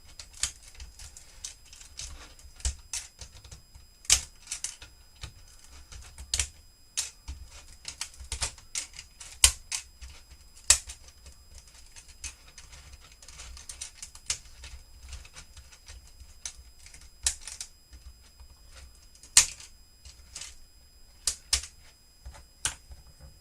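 Lego bricks, including 4x8 plates, being pried apart from an old model, heard as scattered close clicks and snaps in irregular bursts over a quiet background, with no one talking.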